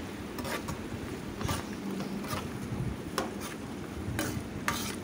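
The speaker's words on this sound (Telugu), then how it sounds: "ఇలా వేసుకున్న తర్వాత మొత్తం కలిసే విధంగా ఈ విధంగా కలుపుకోవాలి." Onions and salt stirred in a pan for an egg and okra curry: soft sizzling under repeated scraping strokes of a spoon at an irregular pace, close by, with no speech.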